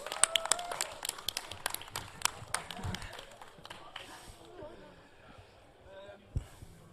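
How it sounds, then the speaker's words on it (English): A studio audience at a LANMaster game-show event breaks into scattered applause and taps that thin out into murmuring, with voices talking underneath throughout. "Ladies and gentlemen, round of applause."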